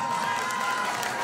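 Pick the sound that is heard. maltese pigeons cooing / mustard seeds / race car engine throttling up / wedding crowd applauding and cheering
wedding crowd applauding and cheering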